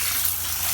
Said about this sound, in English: We'll backflush everything. You see how the water's running backwards?